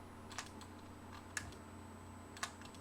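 Three soft, close keystrokes tap on a computer keyboard during AutoCAD work, spaced about a second apart over a quiet room hum.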